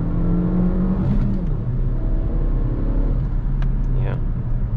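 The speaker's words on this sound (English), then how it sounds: "let me show you second gear acceleration" A 2005 Suzuki Vitara 1.4 Turbo with a six-speed manual pulls hard at full throttle in second gear, its engine drone loud and rising steadily from the cabin, with faint voice sounds underneath.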